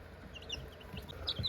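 Copper Marans chicks and other young chickens peep softly in a brooder, a few faint high chirps scattered over a low indoor murmur.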